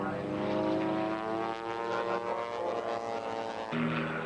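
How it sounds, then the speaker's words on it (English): An aerobatic propeller airplane performs at a 1987 air show, its engine droning loudly with a harmonic whine that shifts pitch as it hangs on the prop, and faint commentary underneath. "Just going to let that airplane hang on its prop."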